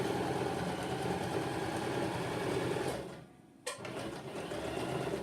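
Sewing machine stitching two pieces of fabric together for hosen, a steady mid-pitched motor whir that drops out briefly, then resumes after a sharp click and runs on.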